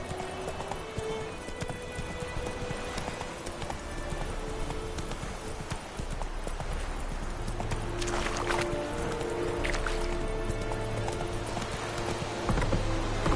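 Roach, Geralt's horse in the video game The Witcher 3, gallops with a steady clip-clop of hooves at a close, moderate level over an ambient music bed.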